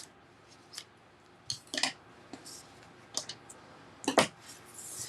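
Scissors trim a cardstock strip while a card is being made, giving a few short, sharp snips and clicks in small clusters against a quiet room.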